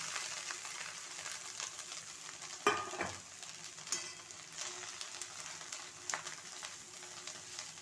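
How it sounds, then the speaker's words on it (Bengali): Quiet frying sizzle with the scrape and clink of a utensil stirring rice in a pan, a few sharper knocks standing out. "দেখো এবার এটা ভালো করে নাড়াবো"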